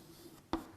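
A word is written by hand, heard as a single short, quiet scratch of pen on paper, close and isolated against a faint background.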